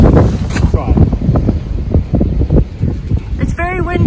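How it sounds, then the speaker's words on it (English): Gusty wind on a bridge over a cycle path buffets the microphone in heavy, uneven blasts while a person talks over the roar. "It's very windy, we're on a bridge."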